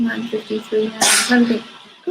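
A dog's sharp, sudden sneeze bursts out in the middle of a person talking nearby.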